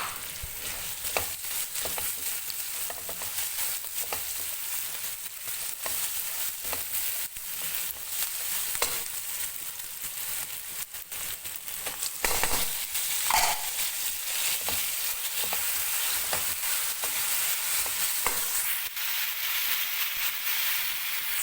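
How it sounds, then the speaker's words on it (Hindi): Daal mash keema frying in ghee in a pan: a continuous, close sizzle with scraping stir strokes throughout and no talking. "घी में अच्छे से फ्राई कर लेंगे।"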